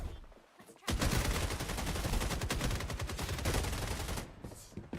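Sustained SMG gunfire in the game Rainbow Six Siege X, a loud, dense burst of rapid automatic shots lasting several seconds, close and continuous, with no voice over it.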